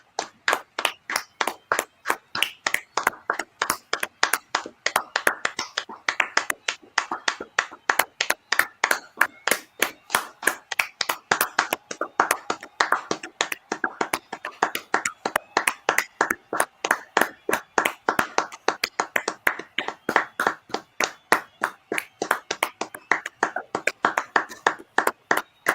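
A commentator and the crowd give a clapping tribute during the Euro 2020 match between Denmark and Belgium. Close, sharp, evenly spaced hand claps repeat steadily for about twenty-five seconds.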